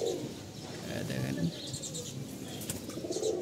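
Two female pigeons take off as they are released, their wings flapping in soft, fluttery bursts amid faint chirps and coos, fairly close against steady background noise.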